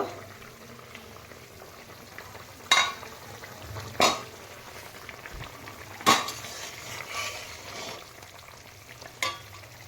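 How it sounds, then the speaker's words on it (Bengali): Koi fish curry gravy bubbling in a pan after the lid comes off, a low steady simmer with a few sharp clinks of utensils against the pan standing out. "আমার ঝোলে জাল উঠে গেছে, ঢাকনাটা এবার খুলে দেব।"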